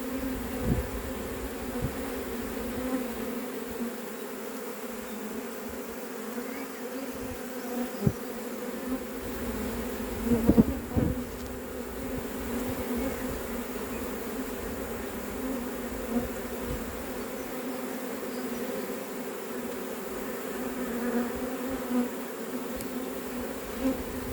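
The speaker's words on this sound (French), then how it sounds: "Allez, je fais voler les abeilles sur la branche." A swarm of honeybees buzzes in a dense, continuous drone at Brunoy, steady and close throughout with a few soft knocks, and no talking.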